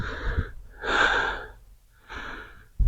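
Heavy breathing close to the microphone: three long, rasping breaths with a hoarse, gasping texture, the middle one the loudest.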